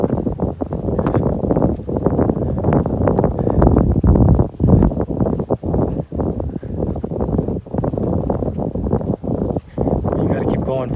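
Chilly wind blows across a coastal path by Iona jetty, a steady buffeting rumble over the microphone that runs under a person talking throughout.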